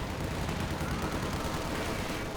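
MG42 machine gun fire in the Company of Heroes 2 video game, a dense, unbroken rattle of rapid shots blended with battlefield noise, moderately loud throughout and without voices.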